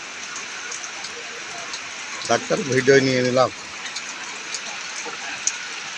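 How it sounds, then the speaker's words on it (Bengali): Rain pours steadily outside a small shop at a market in Kushtia, an even hiss of drops throughout, with someone speaking briefly midway over it. "খুব সুন্দর বৃষ্টি হচ্ছে।"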